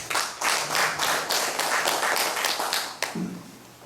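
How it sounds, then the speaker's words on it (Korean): An audience at an academic symposium claps to welcome a speaker: a loud, close burst of rhythmic, somewhat synchronized applause that ends abruptly with a sharp final clap, followed by a brief low murmur. "큰 박수로 맞이하겠습니다"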